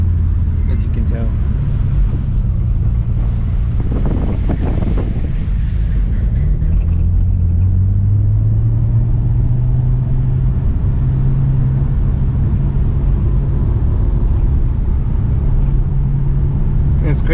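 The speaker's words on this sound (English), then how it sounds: "I'd love to push this car a little harder, but I can't" A Nissan Skyline GT-R R34 driving on a road in Japan, with low engine drone and road rumble held at a steady, moderate pace, and someone talking over it.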